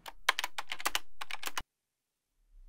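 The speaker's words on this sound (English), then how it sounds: "you'll open your browser and type in bard.google.com" A quick burst of close computer keyboard keystrokes as a web address is typed, about a dozen crisp clicks in rapid succession, then silence.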